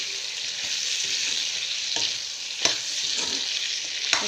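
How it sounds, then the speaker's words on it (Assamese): Broiler chicken and potatoes fry in a pan with a steady loud sizzle, while a spoon stirs and scrapes them in a few sharp knocks, close up and with no talk. "আকৌ ভালদৰে ভাজিম এইখিনি।"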